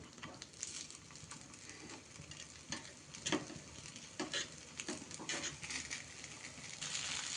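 Lentil appe fry in a covered appe pan and get flipped, a faint continuous sizzle with scattered light taps and clicks throughout.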